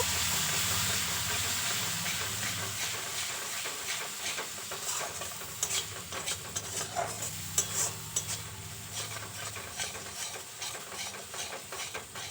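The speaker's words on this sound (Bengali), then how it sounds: "এবার সব কিছু একসাথে খুব ভালো করে মিশিয়ে নেব" Turmeric, chilli powder and ground spice paste fry in a pan for a pabda fish jhal, with a soft, continuous sizzle and a run of faint, rhythmic stirring scrapes near the end.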